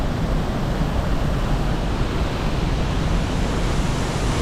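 Powerful rushing water roars steadily and unbroken, a dense wall of white noise from a short, strong waterfall close by in Slovenia.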